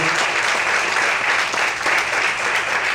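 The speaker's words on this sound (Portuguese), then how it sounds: "Vamos aplaudir bem forte o Senhor." A church congregation claps loudly for the Lord in a sustained burst of applause, a full, continuous roar of many hands heard close and alone.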